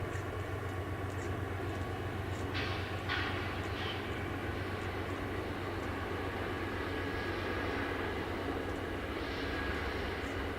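The Amtrak Coast Starlight rolls across the Dry Creek Trestle at dawn, a steady low rumble held at an even level for the whole stretch, with a few faint higher squeals.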